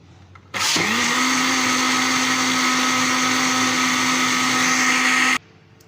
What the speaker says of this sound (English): And now I will blend all these together.